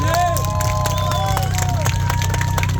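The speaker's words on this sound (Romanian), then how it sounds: "Hai mă, încă o dată aplauze pentru Beatle." Spectators at a car tuning show cheer and applaud for a Volkswagen Beetle, a loud, close crowd roar with whoops and whistles over a constant low engine-like drone, busy and continuous for a few seconds.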